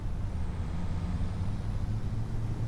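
Farming Simulator 25 road traffic, with vehicles rolling past in a steady, loud, low engine drone and a faint high whine along the top, no talk.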